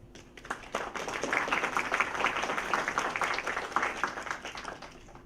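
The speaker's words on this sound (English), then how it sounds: "So let's join in a round of applause for Tim Bayne." Audience applause for a humanities lecturer at a distinguished lecture in Singapore: a dense, steady wash of many hands clapping from a seated crowd, sustained at moderate level throughout.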